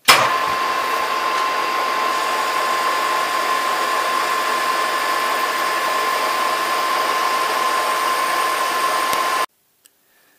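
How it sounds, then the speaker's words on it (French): A lathe machines the valves of a Renault V72 tractor engine to final diameter, giving a steady loud whirring drone with a faint tonal hum that runs unbroken for about nine seconds, then stops abruptly, with no talk. "Maintenant j'usine le diamètre à la cote finale sur toutes les soupapes."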